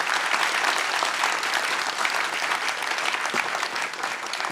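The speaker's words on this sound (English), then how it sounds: "please give a huge round of applause for Hiba," Dense, steady applause from an audience at a peace talk event fills the whole stretch, many hands clapping loudly and evenly with a faint murmur of voices underneath.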